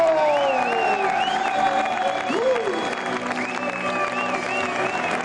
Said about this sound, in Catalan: A l'aplaudiment pel Diego Lozano, Kenny Noyes, José Ramón Delgado.